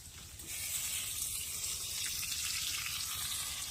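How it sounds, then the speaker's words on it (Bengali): Fish frying in a pan aboard a boat moored in the Sundarbans forest, a steady broadband sizzle holding from start to finish with a low rumble beneath, no voices. "এদিকে ফারসে মাছ ভাজা"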